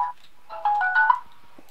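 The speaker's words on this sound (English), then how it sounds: "I'm not quite sure what that phone noise was, but it was beautiful" A short melodic phone ringtone plays a few bright electronic notes close by, lasting about a second before fading into quiet.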